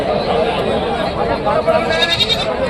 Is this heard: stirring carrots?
no